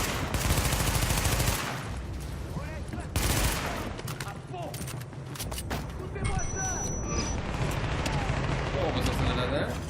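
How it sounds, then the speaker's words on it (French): Gunfire and a grenade explosion in The Division video game, set on Manhattan island: loud bursts of rapid shots and booming blasts fill the scene, with fighting continuing at varying intensity. "C'est une grenade. C'est ton ami qui l'a tiré."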